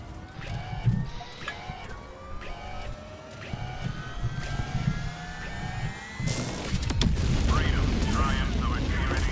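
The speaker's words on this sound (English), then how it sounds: "And launch the missile." A missile launch and explosion in the video game Helldivers II, with a rising aircraft-like whoosh and then a heavy booming blast, while a voice speaks over the game audio.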